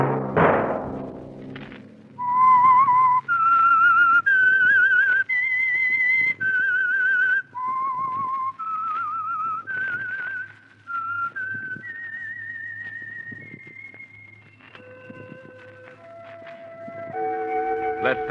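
Someone whistles a clear melodic tune, note after note, loud and close, with a soft thump at the start.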